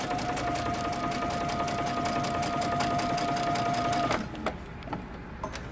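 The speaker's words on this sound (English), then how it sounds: "we're going to create a line of basting stitches" A sewing machine running basting stitches on a dress, a fast, even needle rattle with a steady hum, close and continuous for about four seconds before stopping into quieter handling sounds.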